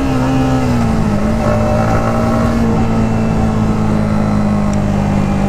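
A 2020 Yamaha MT-15 motorcycle engine revving hard at high RPM, a loud, steady, buzzing engine note held close for several seconds with a slight dip in pitch early on.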